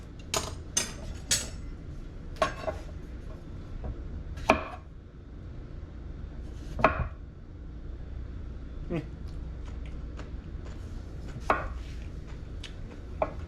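A knife chops a vegetable into thin slices on a cutting board for a summer salad, a series of sharp, irregular close thuds and clicks with quiet pauses between, and a voice talking now and then.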